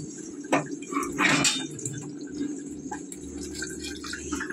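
Water from a pan is poured into a pot of khichdi in a home kitchen, a soft splashing pour with a few drips and clinks, close but fairly faint over a low hum.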